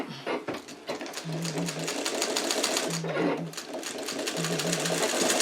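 A sewing machine stitches a pillowcase in three short bursts, its rapid mechanical chatter slowing over thick fabric, with a person talking over it throughout.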